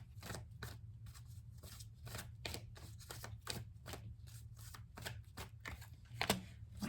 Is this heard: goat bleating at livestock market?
no